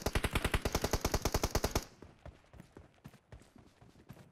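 Rapid, evenly spaced gunfire from a PUBG Mobile team deathmatch, a loud burst of about twenty shots over nearly two seconds, followed by scattered fainter shots and game sounds.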